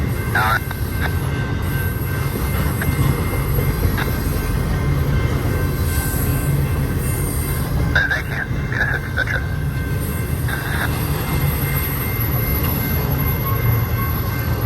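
A freight train rolls along a canyon track with a continuous heavy rumble and occasional wheel squeals, loud and near, while people talk briefly over it.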